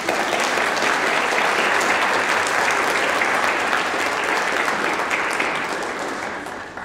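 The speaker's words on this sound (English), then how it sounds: "Let's give her a round of applause." Sustained applause from an audience at a university symphony orchestra concert, dense steady clapping that holds for several seconds before gradually tapering off.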